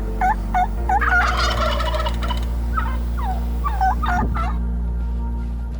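Wild turkeys in the Nebraska hills gobble in quick repeated bursts, loud and fairly close, with a steady low rumble underneath and no talk.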